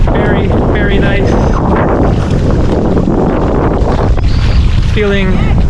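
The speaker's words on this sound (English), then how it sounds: "Wind has picked up a bit choppier than yesterday in general" Strong wind buffets a microphone over choppy, shallow water from a boat, a loud constant roar with splashing underneath and brief tonal chirps and voices cutting through now and then.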